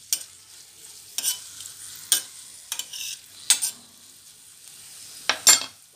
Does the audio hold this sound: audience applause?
no